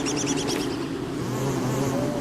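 Bees buzz steadily around bee boxes in the Don't Starve video game, a continuous close insect drone with no talking over it.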